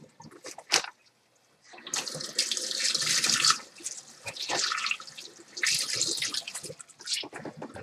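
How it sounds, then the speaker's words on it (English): Tap water runs into a kitchen sink while a knife and then a cutting board are rinsed under plain water, a steady close splashing that starts and stops in several bursts with faint drips between. "I'm washing off my cutting board with just plain water here"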